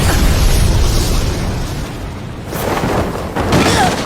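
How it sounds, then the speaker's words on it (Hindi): Booming magic blasts from a video game battle, a continuous loud rumbling roar with bursts near the start and a fresh surge toward the end, with no talking over it. "तुम एक लौती नहीं हो जो मैजिक से धमाका कर सकती हो सेफिरो।"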